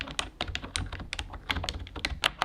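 Fingers type on an orange computer keyboard, close crisp clacks in quick uneven bursts with short pauses, loud and alone with no voices.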